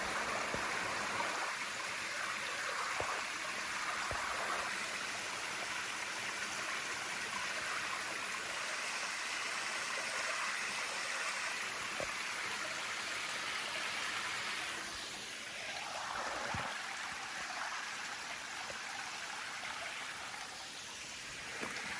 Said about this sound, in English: The creek runs across the entire property.